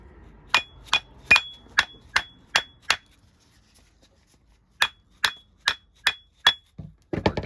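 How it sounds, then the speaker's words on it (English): A hammer strikes a Lucas starter motor during disassembly: two bursts of sharp, ringing metallic blows, about seven quick hits, a pause, then six more, loud and close. "Let's take this hammer and we're gonna go"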